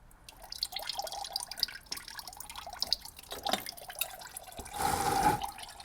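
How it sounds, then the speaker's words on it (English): Coolant draining from the EA888 engine of a 2016 Audi Q5 during a water pump job, a close run of irregular drips and trickles that ends in a short gushing splash. "Coolant's still draining"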